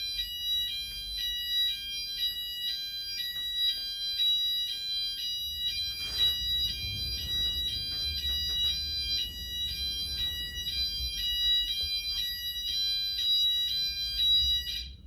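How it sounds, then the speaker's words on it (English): A weekly fire alarm test indoors: a steady, repeating electronic alarm tone pulsing in a regular rhythm for the whole stretch, moderately loud, with faint low background noise and no talk. "every Wednesday there's a fire alarm test, a fire test where they test the alarm"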